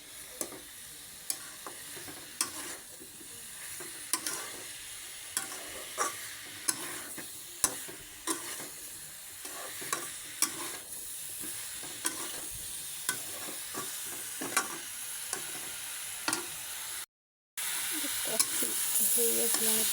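Cauliflower curry made without onion or garlic is stirred and sautéed in a pan, a spoon knocking and scraping in regular sharp clicks over a continuous soft sizzle, close by with no talk.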